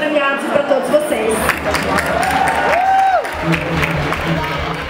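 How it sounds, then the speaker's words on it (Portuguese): A crowd at an awards night applauds and cheers its fourteen winners, with continuous clapping and murmuring voices and a brief whistle-like tone, fairly close and lively. "Peço uma salva de palmas para os nossos 14 premiados e para todos vocês."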